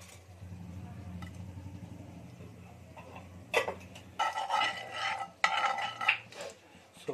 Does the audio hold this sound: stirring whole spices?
yes